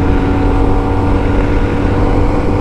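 A budget motorbike at full throttle on a high-speed run between Bratislava and Prague, with a loud, steady engine drone and wind roar that stays dense and continuous throughout.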